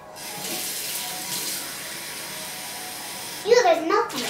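Tap water runs steadily into a kitchen sink for crepe batter, a soft hissing stream held at moderate level before a voice briefly cuts in near the end.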